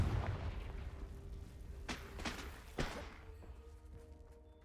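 The Confringo fire spell in Hogwarts Legacy goes off as a few faint, short muffled blasts and thuds at low level, spaced about a second apart.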